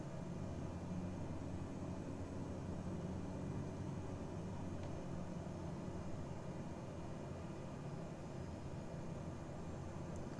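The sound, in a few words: airplane on approach in Microsoft Flight Simulator video game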